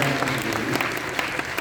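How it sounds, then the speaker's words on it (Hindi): Audience applause at a literature and arts festival in India, a loud, dense patter of many hands filling the hall continuously with no speech over it. "हार्दिक तालियां इस बीच बजती रहे"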